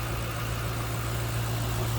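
A 2006 Ford Mustang GT Premium convertible with its V8 idling, a smooth, steady low hum with a constant tonal drone, close and fairly loud with no one talking.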